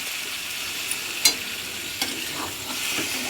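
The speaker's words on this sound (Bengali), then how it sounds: "ভালো করে কষতে হবে।" Soybean chunks and potato are stir-fried in a pan for a soya bori and egg curry, giving a steady close sizzle broken by a few scraping stirs of the spatula.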